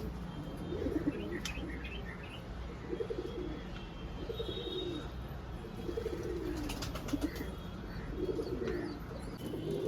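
Domestic pigeons coo in repeated soft, low bursts, fairly close, with occasional chirps and a brief wing flutter over steady background noise.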